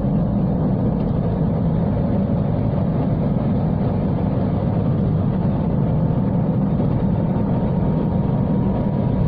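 Toyota Starlet engine pulling steadily as the car gains speed on the road, a constant loud low drone with broadband road and wind rumble throughout, no talking.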